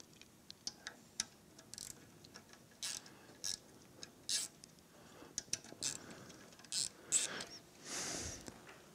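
Ratchet wrench working on a bolt at the inverter of a Toyota Prius, giving short irregular clicking bursts close by, with quiet pauses between them.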